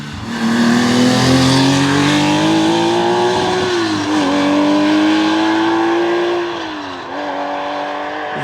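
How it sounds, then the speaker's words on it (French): A Porsche rally car engine howls past at full throttle during a rally, a loud sustained high-revving note with gear shifts and brief lifts, rising then dipping near the end. "Qu'est-ce que j'aime cette voiture, écoutez ce bruit."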